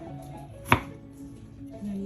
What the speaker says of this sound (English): I just want to show you how I cut it into thin slices